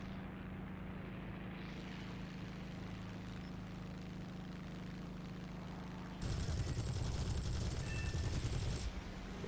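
A Yak-7 fighter in the War Thunder video game drones at a steady propeller pitch, and then a burst of loud sustained gunfire breaks in near the end and stops just before the clip closes.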